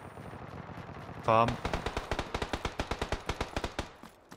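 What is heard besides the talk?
gunfire from the video game PUBG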